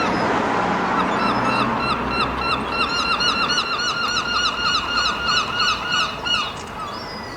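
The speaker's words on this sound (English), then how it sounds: "It's a convoy of swans." A group of swans on the water gives repeated honking calls in quick overlapping bursts. The calls carry over a low outdoor rumble by the harbour.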